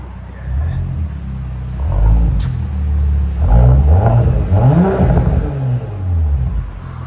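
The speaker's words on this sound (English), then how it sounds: "It should barble now too. Give it gas." An Audi S7 twin-turbo engine revs repeatedly from idle, with loud rising and falling sweeps and a rumbling exhaust burble between them, close by.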